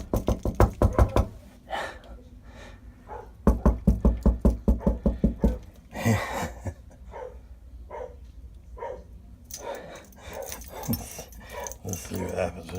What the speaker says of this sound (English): Abby, any knocking, even in a movie, freaks her out.